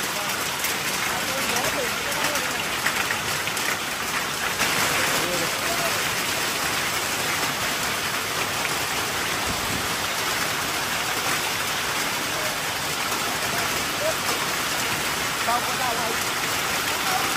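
Heavy rain mixed with hail pounding down during a road trip in Vietnam, a loud dense unbroken hiss and patter filling the whole stretch, with no clear voices above it.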